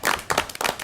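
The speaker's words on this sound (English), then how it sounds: "Applaud." Brief hand clapping from a small group at a city council meeting, a few quick bursts of claps close to the microphone.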